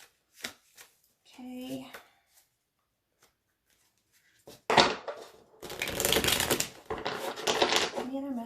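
Romance tarot cards being shuffled by hand: a brief spoken word and a few soft taps first, then loud, close, continuous riffling and slapping shuffles filling the second half.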